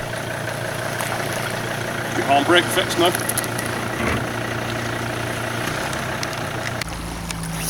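An outboard boat engine idles steadily at close range, a low continuous drone with people talking over it.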